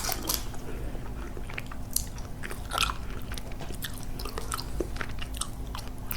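Sour Patch Kids candy being chewed close to the microphone for ASMR, with soft, sticky bites and squishy mastication sounds repeating irregularly over a quiet background.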